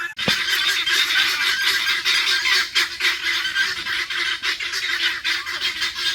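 Turkeys and guinea fowl on a rural Filipino farm give loud, continuous honking, cackling calls that overlap throughout, close by and without pause.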